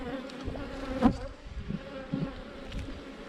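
Honey bees buzzing around an open hive during an inspection of brood frames, a dense close drone with a few louder passes of single bees near the ear.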